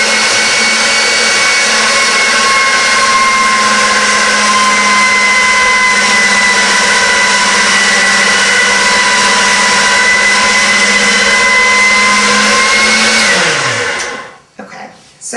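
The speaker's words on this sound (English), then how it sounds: "the pasta machine rolls out the fondant nice and smooth and very thin and uniform" A hand-cranked or motorized pasta machine rolls fondant into thin, smooth sheets, giving a steady, loud mechanical whir with a low hum that runs evenly for about fourteen seconds before winding down and stopping.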